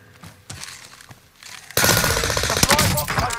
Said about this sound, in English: Heavy fire here.